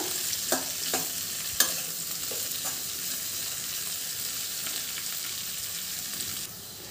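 Salted okra (bhindi) fries in a pan with a soft, steady sizzle, while a few sharp clicks and scrapes from stirring stand out early before the hiss settles into an even simmer.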